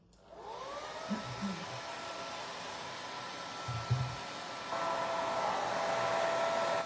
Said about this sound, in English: So I will dry that off with a hairdryer.